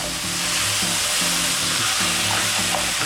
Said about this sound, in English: we're just sauteing this down, as you guys can see